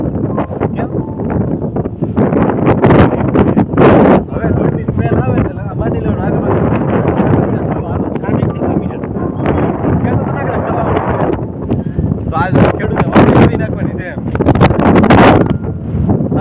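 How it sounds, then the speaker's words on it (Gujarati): Strong pre-rain wind gusts buffet the microphone loudly and continuously in a village, with a person speaking intermittently over the roaring noise. "પવન આવ્યો ભાઈ ભાઈ હવે વરસાદ આવવાનો"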